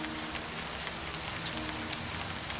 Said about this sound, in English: That rain is obscenely loud in my ears.